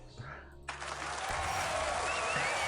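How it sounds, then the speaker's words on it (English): Applause sound effect bursts in after a brief voice, a dense wash of many clapping hands that swells and holds steady, moderately loud against a quiet background. "That's applause."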